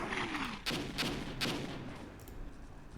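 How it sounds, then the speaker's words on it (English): Artillery shells land on infantry positions in the war game Armored Brigade, a few muffled booming impacts in quick succession over a rumbling battlefield, moderately distant and fading out. "we're also getting hit with artillery fire over here"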